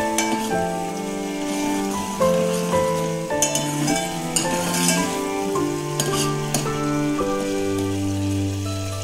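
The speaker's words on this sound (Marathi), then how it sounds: "याला व्यवस्थित आपण फ्राय करून घेऊया. जोपर्यंत त्याला तेल सुटत नाही" Tomato masala fries in hot oil in a pan with a continuous close crackling sizzle and bursts of stirring, under steady background music, with no talking.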